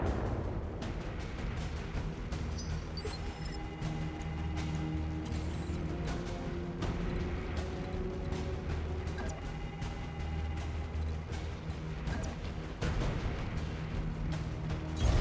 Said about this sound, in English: Are they shooting missiles at Decker?